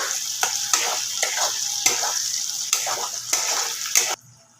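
Masala for chicken sizzles in a pan as a spoon scrapes through it in regular strokes, each stir a sharp rasp over the constant frying hiss, until the sound cuts off abruptly.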